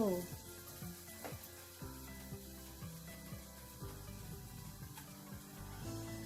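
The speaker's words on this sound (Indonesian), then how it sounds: "Ini digoreng sampai warnanya kecoklatan." Oliebollen dough balls deep-frying in oil give off a continuous crackling sizzle. Scraping and stirring sounds and a speaking voice run over it throughout.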